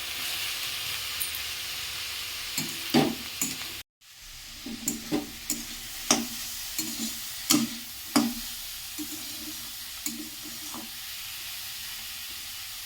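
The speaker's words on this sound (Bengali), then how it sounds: "এটার সঙ্গে খুব ভালো করে ভেজে নিতে হবে" Cabbage paste with chopped coriander leaves frying in a pan, a soft steady sizzle under repeated scraping and stirring knocks spaced a second or so apart, close and fairly quiet.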